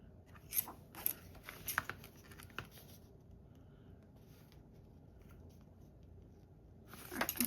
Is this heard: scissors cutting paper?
yes